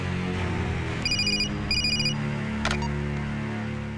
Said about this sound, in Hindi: अब तेरा फोन बंद होते ही तेरे सामने वाले अफसर का फोन बजेगा